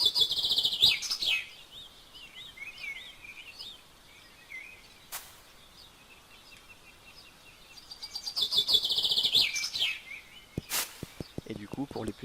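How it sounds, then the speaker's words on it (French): Small birds chirp in a calm outdoor level of the video game Knytt Stories, with bright twittering bursts at the start and again near the end, quieter patches between and a few sharp clicks. "Une ambiance calme, des petits oiseaux dans le ciel"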